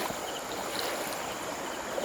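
A river flows steadily, a constant broadband rush of water heard up close and fairly loud throughout, with no voices.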